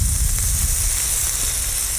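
Lobster pieces sizzle and bubble on a hot plancha with ham, a steady dense hiss of frying filling the clip without pause.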